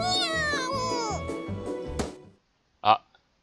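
A cat meows in a visual novel, a short, clear, close meow heard alone after a stretch of background music and voices fades out.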